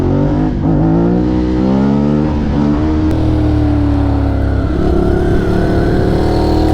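A Ducati Hypermotard motorcycle revs hard while being ridden, its loud, close engine note rising and falling across gear changes with a steady throaty drone throughout.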